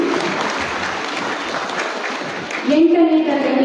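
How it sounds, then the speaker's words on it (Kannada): A crowd claps steadily at a school's 33rd anniversary prize giving honouring children's achievements. A voice then speaks over the fading applause. "ಜೋರಾದ ಚಪ್ಪಾಳೆಯೊಂದಿಗೆ ಪ್ರೋತ್ಸಾಹಿಸಿ."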